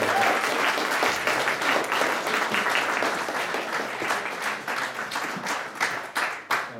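An audience at an evening gathering applauds, a dense, steady clapping from many hands that thins into scattered claps toward the end.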